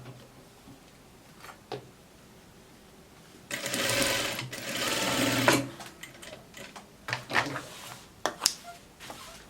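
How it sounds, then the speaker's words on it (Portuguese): A sewing machine stitches a curved seam on a coat, sewn slowly: brief bursts of whirring give way to a longer, steadier run in the middle, then short stop-start pulses toward the end. "então você costura um pouquinho mais devagar, para que a curva fique bem lisinha, sem nenhuma rolinha"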